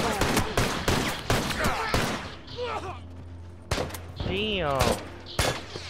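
Sharp gunshots in the video game The Last of Us Remastered, a series of bursts and single cracks at irregular intervals, with voices talking and exclaiming between them.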